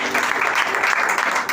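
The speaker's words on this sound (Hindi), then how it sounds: "एक बार ताली बजाइए यहोवा की।" A church congregation claps together during a prayer service, a brief burst of dense, loud applause filling the hall with steady intensity.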